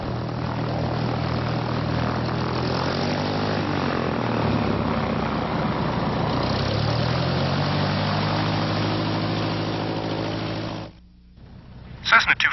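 A Cessna light aircraft's propeller engine drones steadily and loudly while taxiing to the runway, the hum shifting in pitch midway, then cutting briefly before a few bumps near the end.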